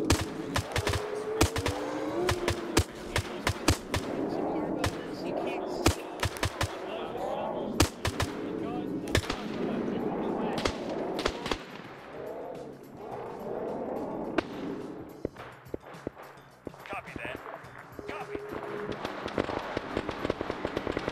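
Carpet bombing in The Secret War 2, a Soviets versus monsters strategy game: dense volleys of sharp explosive cracks and booms, some rapid like gunfire, pound steadily throughout with talk underneath.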